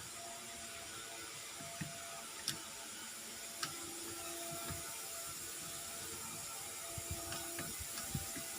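A Phillips screwdriver backing out the screws on a car steering wheel, giving scattered faint clicks and ratcheting ticks over a low, quiet room hum, with no talking.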